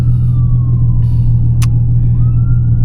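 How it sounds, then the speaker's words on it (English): An ambulance siren passes while driving in a Nissan 300ZX, its faint wailing tone sliding down in pitch over a loud, steady engine and road drone. "oh, here comes the ambulance"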